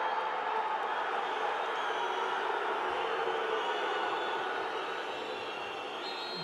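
A football stadium crowd at a Stoke City versus Blackburn Rovers Championship match roars in steady, loud protest, a broad sustained wash of many voices that eases slightly toward the end.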